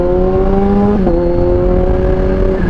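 A 1000cc cross-plane naked motorcycle engine revs with a rich, buzzing harmonic drone, holding steady, dipping briefly in pitch about a second in, then settling and sustaining loud and close.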